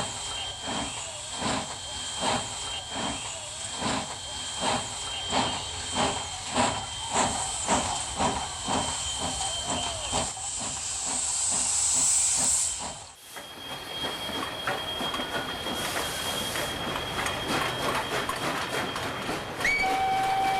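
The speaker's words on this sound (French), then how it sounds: "ces coups d'échappement que l'on entendait à plusieurs kilomètres à la ronde" SNCF 141R steam locomotive working hard, loud rhythmic exhaust beats pounding steadily with steam hiss over them, then a sudden drop into a continuous rushing hiss and rumble with a brief high whistle-like tone near the end.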